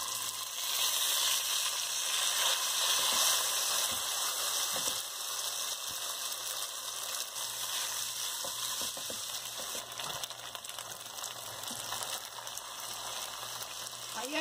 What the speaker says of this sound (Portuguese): Eu balanço a panela assim, olha, que é pra ele ir misturando, pra não ficar aquela sopa de macarrão.